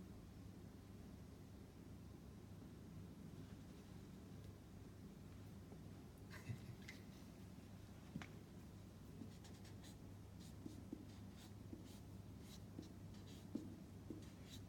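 Soft lead pencil scratches and scrapes across paper during a caricature drawing, a quiet continuous rasp with scattered sharper strokes later on, faint against a low steady hum and no talking.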